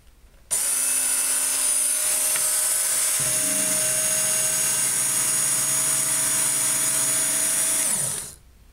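A Work Sharp sharpener-grinder runs steadily as a grinder, a loud continuous motor whine with high-pitched tones that shifts to a lower pitch partway through, then winds down and stops.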